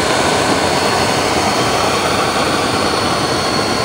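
Airplane passing low overhead, a loud, steady broadband jet roar filling the whole stretch without letting up.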